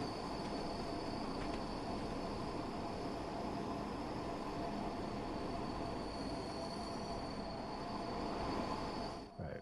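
A Class 90 electric locomotive running in the video game Train Sim World 6, a steady continuous rumble of rolling wheels with a faint high whine throughout, ending with a brief change in the noise.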